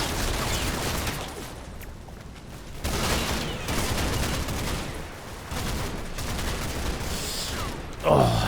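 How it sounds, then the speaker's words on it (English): Repeated rifle shots aimed at a tank in the Combat Mission: Battle for Normandy war game, arriving in several bursts of sharp reports with mechanical clatter between them, at moderate loudness. "You're attacking it with your rifle."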